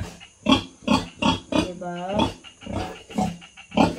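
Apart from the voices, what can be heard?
pig grunting on a farm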